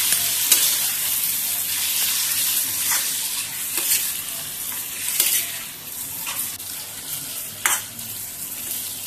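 Cluster beans sizzle and crackle in hot oil while a spoon scrapes and stirs the pan in irregular strokes, steady and close.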